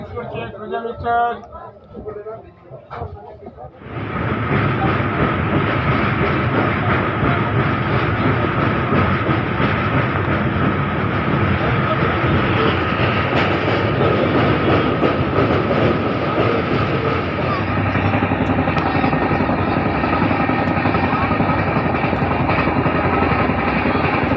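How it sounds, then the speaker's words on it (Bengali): A train rumbles loudly and steadily as it arrives at Contai station after a quieter start, with rail clatter and a constant broadband roar continuing throughout. "ট্রেন এসে কাঁথিতে দাঁড়িয়েছে আর মাত্র পাঁচ ছটা স্টেশন"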